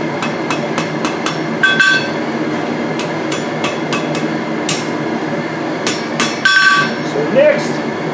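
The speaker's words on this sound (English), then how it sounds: "I'm going to hammer this thing down" A blacksmith forging a pair of tongs strikes hot metal with a hammer in a rapid, steady series of close, ringing blows, some bright clinks on the anvil between, with a low workshop hum beneath.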